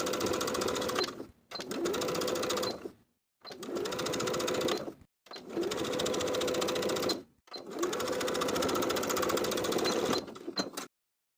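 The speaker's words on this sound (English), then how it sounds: "sew from the outside about 1/8 of an inch away from the seam we just created earlier" A sewing machine stitches the cuff of a blouse in five long continuous runs, steady and close, with short pauses between bursts and no talk.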